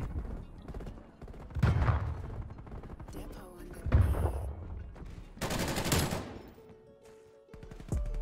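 Bursts of automatic gunfire from a LAPA submachine gun in Call of Duty: Black Ops Cold War, coming in several loud, uneven volleys with short gaps between them. Faint speech can be heard under the shooting.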